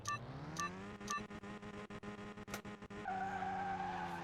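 A Lotus Esprit S1 accelerates hard in the Car Mechanic 2021 video game, its synthetic engine note climbing steadily, then jumping to a higher pitch at a gear change, with sharp clicks scattered throughout.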